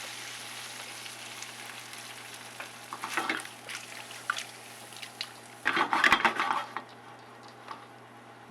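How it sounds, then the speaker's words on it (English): Shrimp simmer in a reducing chipotle cream sauce in a pan, giving a soft, steady sizzle. A spoon scrapes and stirs in short bursts near the middle and end, with no talk. "let those shrimp finish cooking in that cream as the cream's reducing"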